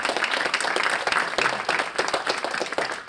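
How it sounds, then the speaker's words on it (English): Audience applauding, with many hands clapping in a dense, continuous burst that stays close and fairly loud for the whole stretch, with no talking over it. "let's clap it up for that"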